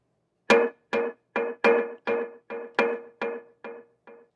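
Processed snare drum with a metallic texture and boosted resonances around 300 Hz, struck ten times at a steady, even pace, each hit punchy with a ringing tonal tail, alone and up close.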